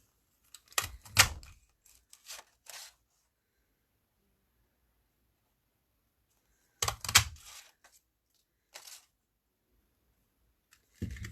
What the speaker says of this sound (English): I'm just going to punch a pine tree out of this Cherry Cobbler